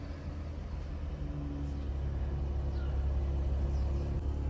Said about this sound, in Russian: Заводим автомобиль.